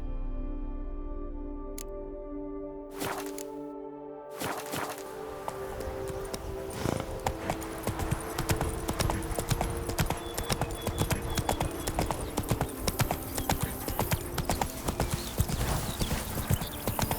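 A horse's hooves clip-clop in a quick, even rhythm as it speeds up and settles into a gallop in The Witcher 3, with an earlier whinny and a few sharp clicks before it, and no one talking.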